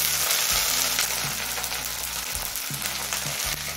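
Potatoes, carrots and flat beans frying in oil in a pan, a steady close, loud broadband sizzle with a few scraping stirs and low hum, no voices.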